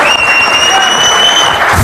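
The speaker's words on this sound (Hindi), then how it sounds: "जिस खिलाड़ी ने इंडिया का इतना मान बढ़ाया, उसके सम्मान में ऐसी तालियां तो बनती हैं" A crowd gives steady, dense applause for Olympic gold medallist Neeraj Chopra at a homecoming welcome ceremony, loud and close throughout.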